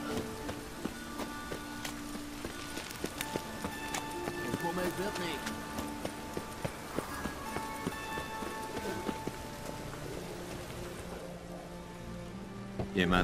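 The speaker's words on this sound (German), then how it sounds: "Perfekte Serienmörderwetter, ne? Dunkel, es regnet." Steady rainfall patters in the background of The Witcher 3: Wild Hunt at night while footsteps and other scattered game sounds tap over it, moderately quiet.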